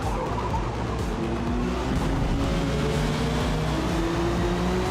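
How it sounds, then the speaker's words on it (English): Race car engines roar in a racing video game, a loud, sustained, droning tone with slowly rising pitch from cars running close together, steady throughout. "Yeah, I can hear his engine more than mine."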